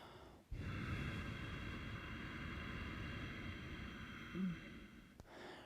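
Ujjayi breathing made with deliberate tension at the back of the throat, a long steady hissing breath that runs for several seconds after a short pause, close and continuous, with a faint catch near the end.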